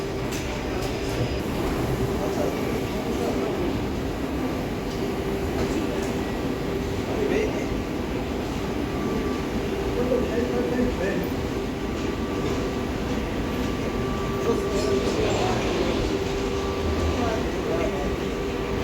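Steady rumble of a train at a Paris Saint-Lazare line station platform, continuous and droning, with faint voices mixed into the background.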